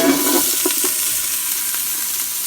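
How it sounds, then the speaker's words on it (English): Diced onion hits browning beef in a pan while making beef stew, giving a loud, steady frying sizzle with brief stirring clatter, close and continuous without any talk. "take your diced onion and throw that bitch in there"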